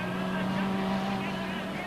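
Rear-wheel-drive, rear-engine race cars stream past on a wide circuit in a steady, loud, overlapping engine drone with no pause, with a commentator talking over it.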